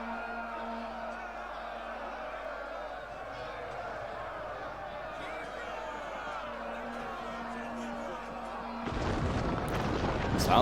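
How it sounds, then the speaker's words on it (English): A siege tower collapses in Total War: Rise of Mordor with a sudden loud crashing roar near the end, breaking through the steady din of battle and crowd noise that runs beneath it. "Sounds like a tower's been destroyed."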